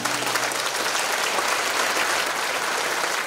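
Steady, dense applause from a large audience at a charity concert night welcoming singers to the stage, sustained and fairly distant with no break, a faint tone briefly underneath.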